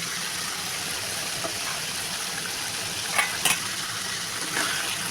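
Chicken meat fries with cabbage in a pan, giving a steady, close hiss of sizzling with a few faint clinks and no talking.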